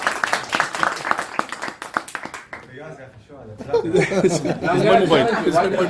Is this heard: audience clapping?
yes